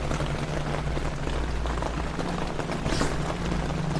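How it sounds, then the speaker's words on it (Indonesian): Heavy rain falls steadily on the outside of a tent at a campsite. The dense, even hiss carries no voices. "Hujan nih teman di luar."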